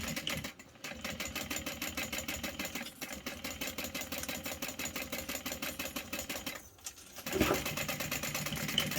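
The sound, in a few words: sewing machine top stitching a backpack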